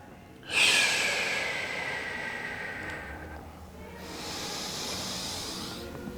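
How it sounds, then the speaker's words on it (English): A long forceful breath out through the nose, then a slower, softer breath in, close and breathy, during a couch hip stretch, with no talking. "Big exhales at the top. Huge inhales through the nose as we drop the chest down to the knee."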